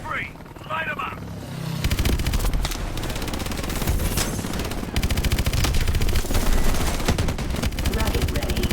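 Rapid bursts of automatic gunfire from the Advanced Warfare video game fill the scene with dense, loud crackling, layered under voices speaking over radio chatter.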